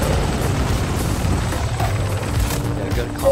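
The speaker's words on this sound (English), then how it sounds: "Two helicopters." Helicopter rotor drone from a Warzone battle royale match, a steady loud low rumble filling the whole moment, with faint background game noise.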